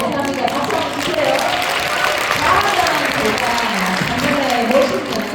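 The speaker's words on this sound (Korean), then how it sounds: "박수 한번 주세요." An audience at a motivational talk on success habits gives a round of applause, loud and close, many hands clapping in a dense, steady stream that holds its level to the end, with crowd murmur mixed in.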